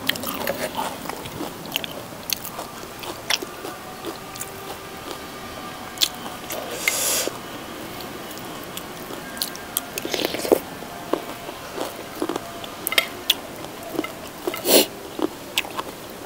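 Battered, deep-fried black mushrooms are crunched between the teeth, with repeated crisp bites and wet chewing up close, short loud crackles rising out of a softer chewing bed, with no talk over it.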